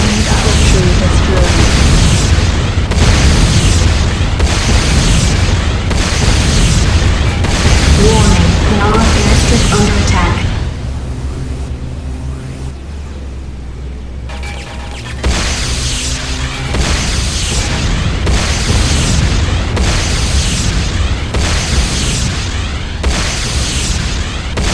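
Destruction of a GDI power plant in Renegade, heavy rolling booms and blasts that are loud and dense, dropping away briefly mid-way before the roaring explosions and battle noise resume.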